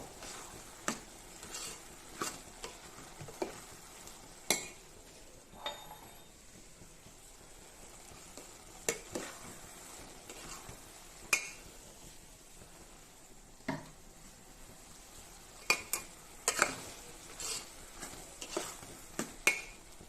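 Spoon scraping and tapping through tomato rice in a pan, with sharp intermittent clicks and soft stirring rustle at an irregular pace, close up with no talking.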